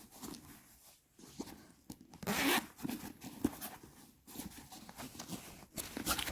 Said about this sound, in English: It's even a zip here.